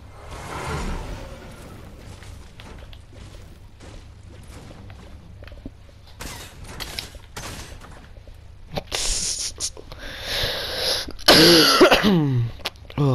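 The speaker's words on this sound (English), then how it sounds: "Oh, sorry for this cough." A person coughs and clears their throat during live gameplay, a few rough bursts among game sounds such as footsteps and bright synthetic effects that swell louder near the end.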